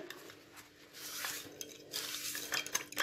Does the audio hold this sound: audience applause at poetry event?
no